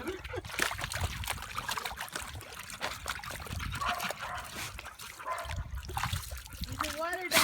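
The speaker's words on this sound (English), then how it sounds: "He's trying to swim." A young gray male dog with cropped ears paddles and splashes through water, with steady sloshing and dribbling close by while people talk over it throughout.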